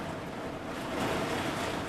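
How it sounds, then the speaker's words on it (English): Heavy rain pours as a dense, steady roar of broadband hiss, loud and continuous throughout with no talk over it. "that's a lot of rain."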